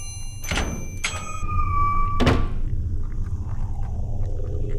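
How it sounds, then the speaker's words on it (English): A door unlocking in the Lamia Nox witch-night game: three sharp mechanical clunks, the first two ringing with a metallic tone, then a low, steady ambient rumble continuing after them. "We hear again an unlocking noise somewhere."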